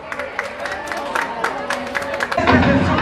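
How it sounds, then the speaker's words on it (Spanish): A crowd claps and cheers steadily for a folk music group at a cultural festival, with a swell of louder applause near the end and voices mixed into the noise. "fuertes esos aplausos para nuestro grupo de folclore"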